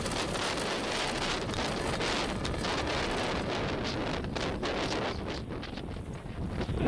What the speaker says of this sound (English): Liftoff of L-87. Go Falcon, go, go